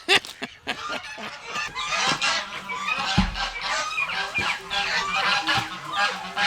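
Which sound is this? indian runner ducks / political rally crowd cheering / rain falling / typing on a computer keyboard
indian runner ducks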